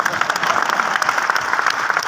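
A crowded hall of seated audience members claps steadily and densely, a loud continuous patter of many hands that stays even throughout.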